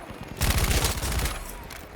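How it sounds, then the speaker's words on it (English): Artillery barrage in the video game Battlefield V: a dense burst of heavy, booming blasts and rumbling explosions rolls in close and loud, then trails off into lingering rumble and debris noise. "can you provide an artillery barrage?"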